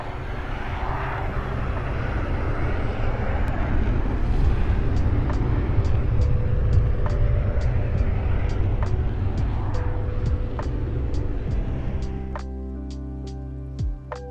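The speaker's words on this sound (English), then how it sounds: "Here's a leak on how aircraft will sound like from the ground." An aircraft in the video game Combined Arms, heard from the ground as a steady loud engine roar that builds and then fades, with rapid clicking ticks entering near the end.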